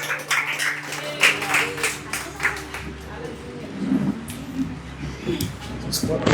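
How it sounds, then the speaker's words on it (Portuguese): Congregation clapping during a church worship service, scattered and fairly close, mixed with talk and fading in and out over a few seconds. "Aplauda o Senhor, amém."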